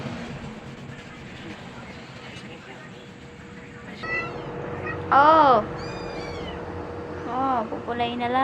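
Pet cats meow repeatedly while waiting to be fed in a home at night, several clear, rising cries close by in the latter half, over a steady background hum and voices.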